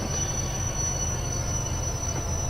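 A Class 67 diesel locomotive in a train video game rumbles along steadily, with a dense, continuous low drone, wheel noise and a thin high-pitched whine throughout, loud and close, with no voices.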